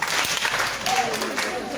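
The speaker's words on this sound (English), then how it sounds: "Clap for her." Classroom of secondary school students applauding, a short burst of dense, steady clapping from a nearby crowd.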